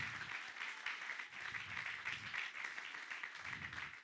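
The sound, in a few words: congregation applause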